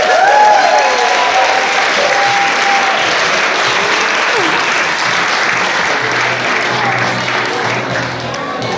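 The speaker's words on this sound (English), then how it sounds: "one final round of applause" Wedding guests applaud in a steady, loud round of clapping that fills the room, with a few voices and cheers rising through it before it slowly thins.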